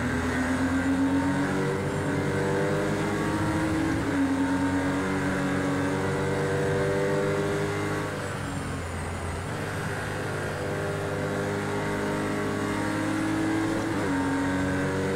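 Several Porsche race car engines drone and whine together during a Project CARS 2 race, with steady harmonic engine tones that shift pitch as the cars accelerate and change gear, loud and continuous throughout.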